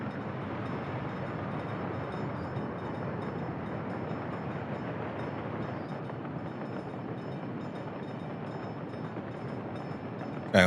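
Train running in the Workers & Resources video game, a continuous broadband rumble of rolling rail cars held at an even level throughout, with no voices.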